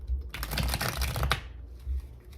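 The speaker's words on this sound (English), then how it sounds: "what kind of damn shuffle was that" Tarot cards riffled in a quick, crisp shuffle, a dense close-up flurry of flicks and slaps for about a second and a half that ends abruptly, followed by quieter handling, with no talking.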